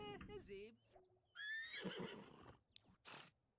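Horse in the Sims 4 on a horse ranch giving several short neighs and whinnies, close and clear, with brief pauses between calls and a few quiet snorts.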